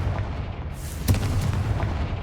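A Confringo spell blast in the Hogwarts Legacy video game, one sharp explosive burst with a crackling hiss and rumble that fades out quickly, heard alone without voices.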